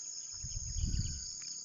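Crickets trill steadily outdoors in a continuous high-pitched chorus, constant and moderately loud, with low rumbling noise underneath and no talk.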